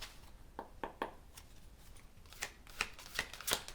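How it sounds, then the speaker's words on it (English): Angel Tarot cards are shuffled by hand in soft, irregular riffling bursts that grow a little busier toward the end, faint and close with no voices. "Try not to shuffle too hard and too loud"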